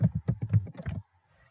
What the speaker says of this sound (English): you can start typing a location